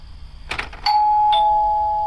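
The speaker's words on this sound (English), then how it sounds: "Rob, fix my doorbell, Robin." A doorbell in the video game INFRA rings once: a brief rattling press followed by a loud, clear electronic ding-dong tone that rings on and slowly fades, with no talking.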